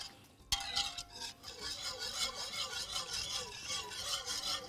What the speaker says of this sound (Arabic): ونقلب كده لحد ما احس ان الدقيق